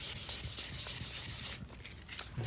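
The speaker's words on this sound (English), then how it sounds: "sanding a little bit, bit of spray like that." Car paint being colour-sanded by hand with a sanding block and 1500-grit paper on an MQ Triton, a steady close scratchy rubbing with repeated back-and-forth strokes that briefly pause near the end.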